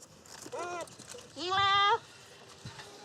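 Two goats kept for meat, one of them blind, bleat nearby: a short call followed by a longer, louder, wavering bleat, with faint background noise and no talking.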